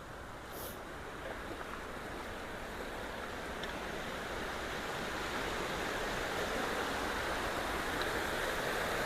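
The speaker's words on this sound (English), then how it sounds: "there's water coming out more than was" Water rushes steadily out of a clogged culvert being cleared, making a dense, continuous roar that stays even and fairly loud from start to finish with no voices.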